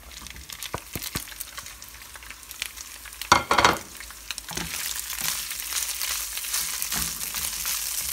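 Shredded chicken meat, salted, roasts in a pan, giving a steady close sizzle with stirring scrapes and clacks and a brief louder flare partway through.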